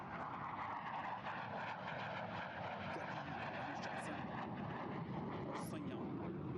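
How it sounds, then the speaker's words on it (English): Surya Kiran aerobatic team jets perform formation flying at an Air Force Day show at Hindon Air Force Station, Ghaziabad, giving a steady, distant roar throughout while a commentator talks over it. "वायु करतब दिखा रहे हैं। एक से बढ़कर एक फॉर्मेशन"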